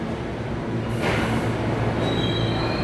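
A New York subway D train bound for Coney Island rumbles loudly into 47th–50th Streets–Rockefeller Center station nearby, its wheels letting out a sustained high metallic squeal against the rails.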